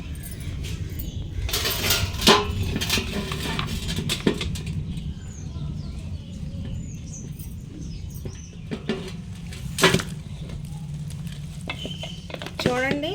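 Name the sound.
mixing mango pickle in a pot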